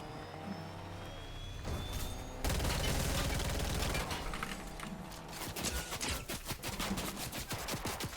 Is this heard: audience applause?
no